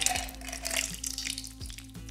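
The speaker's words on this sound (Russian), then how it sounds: "Сольем лишнюю воду из шейкера." Excess water splashing and trickling as it is poured out of a cocktail glass and shaker, a steady close pour with a few gurgling surges.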